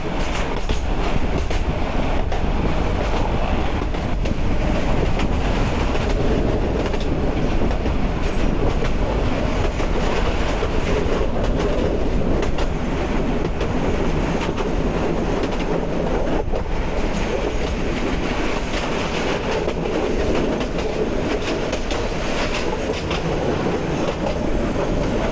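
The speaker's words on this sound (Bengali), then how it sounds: "ট্রেন তো স্লো হয়ে যাচ্ছে, সামনেই মনে হয় স্টেশন।" Passenger train rolling along countryside track, a steady loud rumble and rhythmic clatter of wheels heard from inside a carriage, continuous with no voices, the noise easing slightly toward the end.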